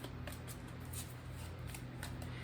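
Tarot cards shuffled by hand in a quiet room, a soft steady riffling and sliding with repeated light flicks, faint and close, with no talk.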